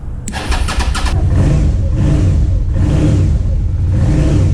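A Suzuki SV650 motorcycle, freshly revived after a fuel pump fix, cranks briefly with a rapid starter whir, then catches and runs loud and close, holding a steady rough idle-to-rev roar.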